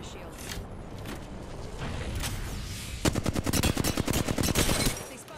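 Rapid bursts of automatic gunfire in Apex Legends, a video game, erupting in the second half as a dense rattling volley after a quieter stretch of game ambience.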